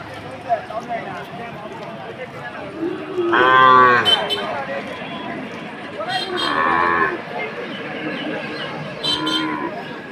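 Cattle moo several times at the Bakshiganj cattle market in Jamalpur, long drawn-out lows rising over a busy background of people talking and livestock shuffling.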